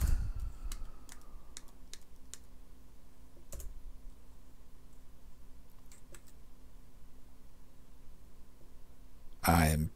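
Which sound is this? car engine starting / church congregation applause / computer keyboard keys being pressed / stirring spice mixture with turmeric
computer keyboard keys being pressed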